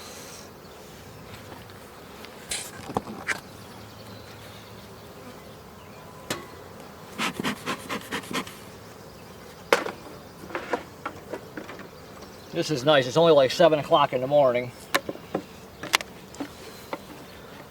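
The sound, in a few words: honeybees buzzing around beehive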